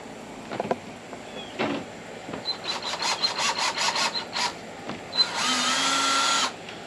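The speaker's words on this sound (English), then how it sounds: "The key is now not to drill all the way through the door" A power drill whirs in a string of short bursts into a wooden door, then runs in one longer steady burst, with tapping and handling noises between.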